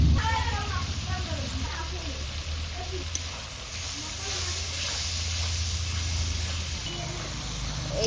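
Ground masala spices sauté and sizzle in a pan for a Bengali ghugni, a soft, steady hiss running beneath a woman's continuous speech.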